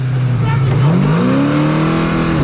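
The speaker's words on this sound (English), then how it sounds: "Panic rev in the pits." A race car engine revs hard in the pits during a motorsport race, rising and falling in pitch loudly and close up, with a steady tonal roar that holds throughout.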